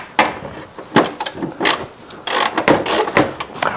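A ratchet with a 13mm socket works on front bumper bolts of a Mercedes-Benz 190E, producing close, irregular clicking bursts and metallic rubbing noises with short pauses between strokes.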